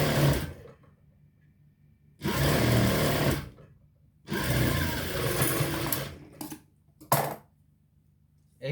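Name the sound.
sewing machine stitching a shirt sleeve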